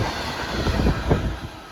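A freight train running from Llanwern Exchange to Margam passes at Pontyclun with a steady, loud, close rumble and faint rhythmic wheel thumps over nearly two seconds, with no voices.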